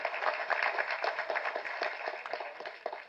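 Dense audience applause at a Tamil film event honouring a National Award-winning makeup artist, many hands clapping steadily and fairly close throughout, with no voices over it.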